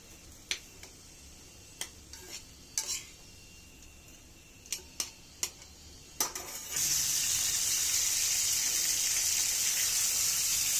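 Chicken frying in a pan: a few sharp ticks and pops come first, then a steady close sizzle starts about two-thirds of the way in and holds to the end.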